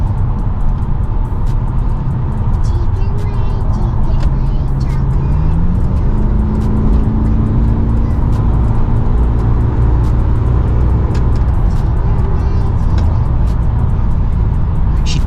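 Chevrolet Lumina SS accelerating on the N3 highway heading north toward Pretoria, heard from inside the car as a loud, constant engine and road roar with rising engine tone, over steady wind and tyre noise.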